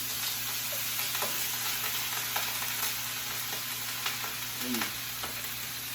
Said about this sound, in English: as my skillet's getting hot here, I want to be able to put my meat in there and